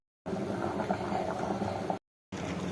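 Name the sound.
curry boiling in a pot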